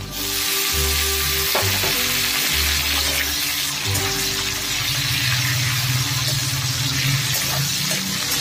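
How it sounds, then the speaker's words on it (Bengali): Chopped onions and tomatoes frying in a pan, a loud, continuous close-up sizzle with occasional stirring scrapes and bubbling, steady throughout with no voices. "ভালো করে পেঁয়াজ আর টমেটোটা ভেজে নিয়েছি"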